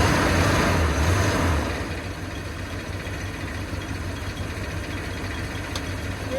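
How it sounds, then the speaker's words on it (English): The engine of a Chevy G30 RV idles high, a steady close rumble that is a bit louder at first, then settles to an even drone with no talking. "Idles high until I put my foot on the accelerator"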